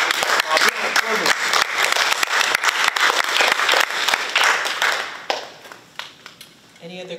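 An audience at a prison awareness and prevention panel gathering breaks into dense, sustained applause for about five seconds, loud and close, then tapering into scattered claps with a voice speaking at the end.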